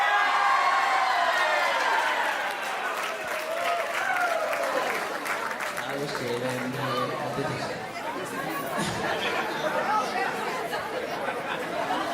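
Wedding guests cheer and clap in a lively crowd during a game between the bride and groom, with steady applause, shouts and chatter throughout.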